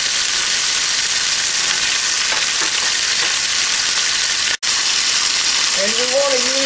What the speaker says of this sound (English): heat up some olive oil and sear the rolls on all sides